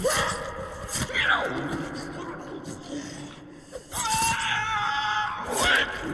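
Screams from The Forest video game, loud shrieks that rise and fall across the moment, twice swelling into piercing wails, mixed with other game noise.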